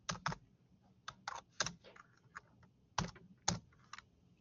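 Code being entered on a computer keyboard comes through as scattered, close keystrokes in small bursts with short pauses between them, fairly quiet over a faint background hum.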